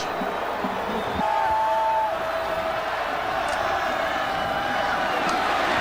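A college football stadium crowd at Missouri reacts with a sustained roar and scattered shouts, loud and steady across the whole stretch, with a faint whistle-like tone briefly in the mix.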